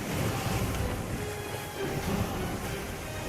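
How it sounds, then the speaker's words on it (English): Surging ocean waves around a ship in the pirate video game Sea of Thieves, a steady loud wash of surf and wind roaring continuously without any speech. "listen to the waves"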